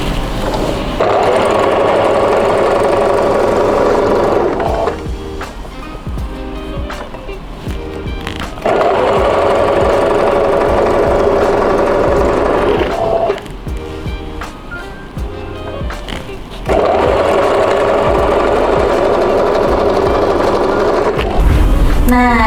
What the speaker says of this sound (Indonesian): Dijahit sambil ditarik ya.